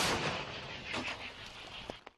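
A loud, broadband burst of heavy artillery gunfire opens, decaying with rumbling echoes, followed by a couple of sharper distant pops near the end.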